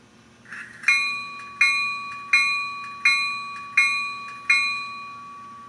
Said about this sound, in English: Function 1 turns on the bell.